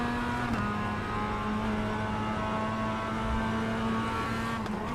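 Race cars roar through a racing video game, a steady loud engine drone with sustained harmonic whine running continuously, no talk over it.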